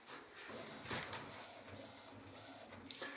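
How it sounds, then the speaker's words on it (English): A direct-to-garment printer prints a t-shirt, giving a steady mechanical whir and hiss with a few soft clicks and carriage shifts, close and continuous throughout. "This is a direct-to-garment printer. We print all our t-shirts on."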